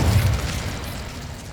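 Incendio fire spell cast in Hogwarts Legacy, a short deep whoosh and muffled burst of flame that quickly fades into a low rumble.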